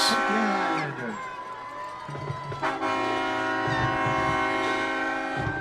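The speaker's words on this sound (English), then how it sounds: "Let that train whistle go" At a Macarthur vs Ardmore high school football game, a loud train whistle blares in long sustained blasts after a touchdown, over crowd noise, while an announcer talks throughout.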